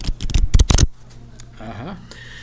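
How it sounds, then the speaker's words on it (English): A deck of playing cards is riffled and shuffled in quick, loud bursts, followed by quieter card handling and a soft rustle. "Shuffle these up a little bit here. Nice playing cards here,"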